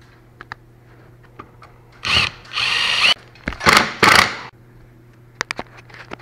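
A power drill drives a drywall screw into a drop ceiling overhead, with several short bursts of whirring motor, the pitch rising as the screw bites, separated by brief pauses and light clicks, loud and close.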